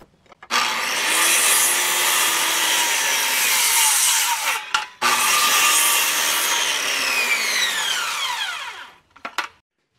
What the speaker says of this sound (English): To get started, I'm cutting these old 4x4 posts to 30 inches long.